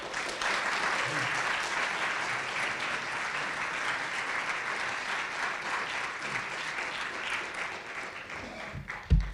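An audience claps to welcome Dean Kevin Kumashiro at an education event, steady full-room applause sustained for several seconds before it tapers off, ending on a sharp knock.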